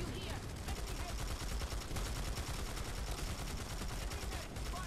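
Continuous gunfire in Planetside 2 on PS4, a dense, steady rattle of rapid shots and battle noise that stays at an even level for the whole stretch, with a voice talking over it.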